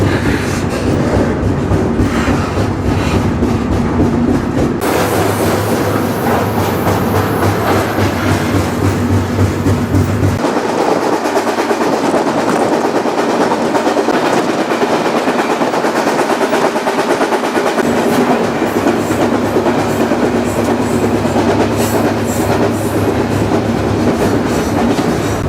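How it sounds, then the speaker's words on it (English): Loud, steady rumble of a freight train rolling along the rails between Birmingham and Dallas, with rhythmic clattering wheels and shifting tones as it travels, no voices. "Finally, the train started making progress."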